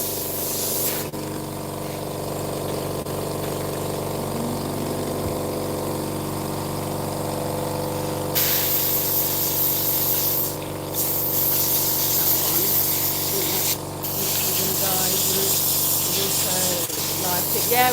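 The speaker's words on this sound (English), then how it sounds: "Like now, I'm using airbrush cleaner to clean out the airbrush." An airbrush is flushed with airbrush cleaner, producing a continuous spraying hiss with a pump-like hum that grows louder partway through and breaks off briefly a couple of times.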